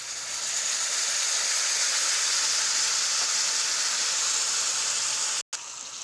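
A pan of barbecue molasses mixture for pizza sizzles and hisses in a steady, loud, even wash of noise, with only a brief break near the end.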